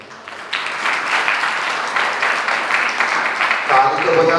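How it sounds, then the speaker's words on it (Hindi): An audience at a Jain sermon in Itarsi, Madhya Pradesh, claps steadily in a sustained wave of applause that swells slightly, with a voice briefly audible near the end. "ताली बजाना है।"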